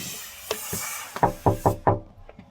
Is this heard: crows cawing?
no